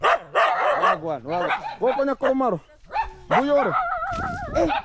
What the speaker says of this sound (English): dogs here are very, very crazy.